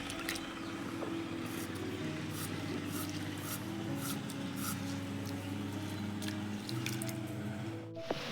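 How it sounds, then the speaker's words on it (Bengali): Sliced potatoes for homemade chips being washed in water, soft splashing, dripping and squishing sounds close by, fairly quiet over a steady background hum. "ভালো করে ধুতে হবে না হলে সাদা হবে না"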